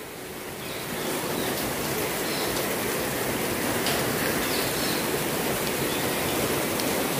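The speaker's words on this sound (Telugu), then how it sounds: "పొద్దున్నుంచి ముసురు పట్టినట్టుగా ఉన్నదండి" Steady drizzling rain falls outdoors, an even hiss of drops on surfaces that swells slightly at the start and then holds constant and fairly loud without voices.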